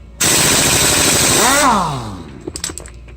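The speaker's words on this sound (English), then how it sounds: "your handy dandy impact wrench, go ahead and remove the nut from the variator" A loud pneumatic impact wrench hammers in one sustained rattling burst removing the variator nut on a scooter, winds down with a falling whine, then a few light metallic clinks.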